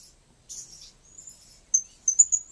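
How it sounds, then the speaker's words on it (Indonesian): Birds chirp outdoors on a hot day in scattered short high tweets, soft at first and then a few brighter, closer calls near the end, with no talking. "Ada bekicau lah burung-burung nih ya."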